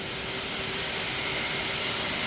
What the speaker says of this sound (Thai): เครื่องยนต์สี่สูบเทอร์โบ